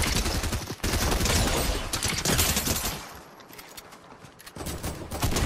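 Fortnite gunfire crackles in dense, rapid bursts that fill most of the moment. It eases briefly, then picks up again at the end, loud and near with almost no talk.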